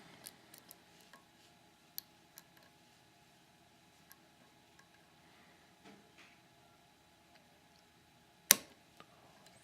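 Faint, sparse metallic clicks from picking a Master Lock No.570 padlock, scattered irregularly across a quiet background, with one sharper, louder click near the end.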